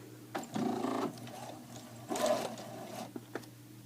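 Sewing machine stitching fabric in two short bursts of rapid mechanical clatter, close by and moderate in volume, separated by a brief pause with faint handling noises.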